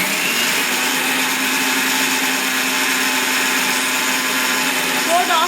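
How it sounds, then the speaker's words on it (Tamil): Mixie blender grinding adai dosa batter with water, a loud, constant close-up whirring roar that holds steady throughout, with a brief voice at the very end. "அந்த மாவு தண்ணியை எடுத்து மிக்ஸி போட்டு அலாசறோம்"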